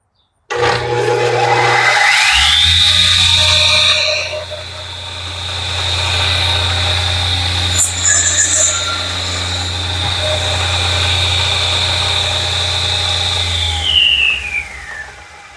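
A fully restored Sawsmith radial arm saw motor starts up, rising to a loud steady whine and hum that runs alone for about twelve seconds before winding down as the brake slows it.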